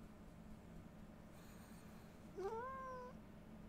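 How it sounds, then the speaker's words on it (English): A cat in the video game Ancestors: The Humankind Odyssey gives one drawn-out, plaintive meow, clear and rising above a quiet, hissy background. "Sad kitty noises."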